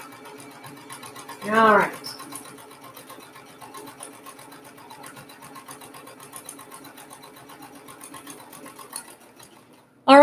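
A sewing machine stitches fabric in a steady, fine-grained whir that runs for several seconds, with a person speaking briefly over it.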